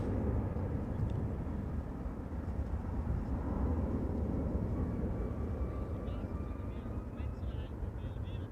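A Boeing 747-400 ER freighter departing Amsterdam Schiphol produces a continuous broad roar of jet engines at a distance, steady and unbroken throughout, with faint high tones drifting on top.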